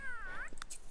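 A single short, rising-then-falling meow from a strange cat being brushed in The Sims 3 Seasons, close and fairly soft, with no talking.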